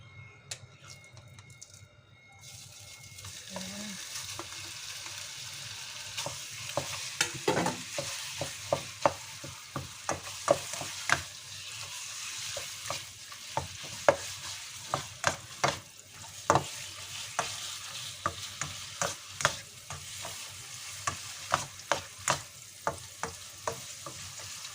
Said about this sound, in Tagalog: So, lulutuin muna natin yung minced chicken guys.